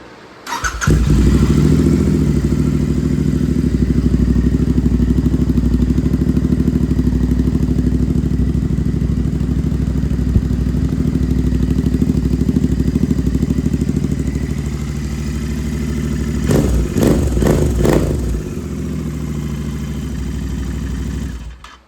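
Royal Enfield INT650 twin-cylinder motorcycle with a modified exhaust, idling at close range with a loud, steady, deep rumble and a few quick throttle blips near the end before it settles back.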